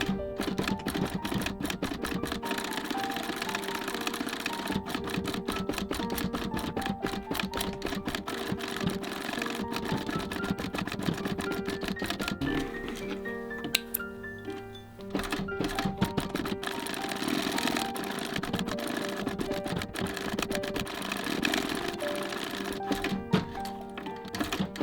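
A sewing machine stitches a fabric pen case with a rapid, even mechanical clatter of needle strokes, pausing briefly midway and then running on, close by and with no voices.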